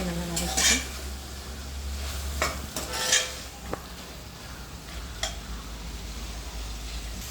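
Cauliflower, carrot and beans being sautéd in a pan for veg biryani, with a steady low sizzle underneath and occasional scrapes and clinks of a stirring spoon against the metal, close and without voices.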